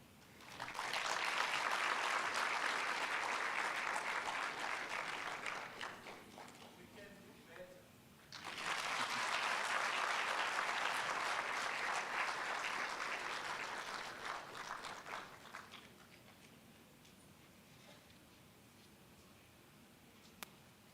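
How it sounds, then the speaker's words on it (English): Conference audience applause fills the room in two long, loud bursts of dense clapping, with a brief lull between them, then dies down to quiet room tone. "Let's stand up and clap properly."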